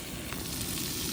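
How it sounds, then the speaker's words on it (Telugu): Chopped onions and green chilli frying in a pan for chicken pulusu, a soft, steady sizzle and crackle, faint and close, running for just over a second. "ముందుగా ఆనియన్స్ ముక్కలు వేసేసుకుందాం ఫ్రెండ్స్. దోరగా వేయించుకుందాం"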